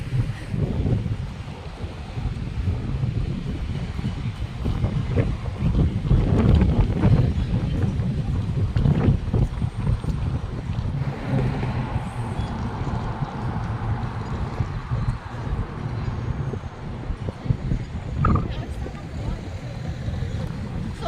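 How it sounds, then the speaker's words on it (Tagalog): Wind gusting outdoors by O'Connell Bridge in Dublin city centre, a steady broadband rush with low rumble buffeting the microphone throughout, with faint street bustle behind. "It's windy, no?"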